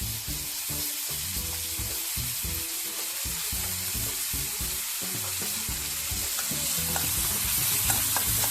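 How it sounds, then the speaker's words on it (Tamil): Cashews and raisins roast in a hot pan for a Rava Laddu, making a steady sizzle with irregular scraping and stirring knocks throughout, and no talking. "முந்திரியும் திராட்சையும் கழுவி வச்சுருக்கிறேன், உள்ளே போட்டு வறுத்து எடுத்துக்கலாம்."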